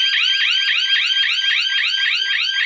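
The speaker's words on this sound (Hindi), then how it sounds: "तो उसका ये अलार्म बज रहा है और सारे रूटर बज रहे हैं" Hooters wired to a Secureye S-AL370 GSM alarm panel wail in a rapid repeating sweep, a loud electronic warble cycling about four times per second, steady throughout with no voices.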